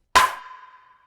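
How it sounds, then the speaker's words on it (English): A single sharp snare hit opens the sound, then a bright ringing reverb tail slowly fades out over about a second. "Last but not least, we have our reverb tail layer."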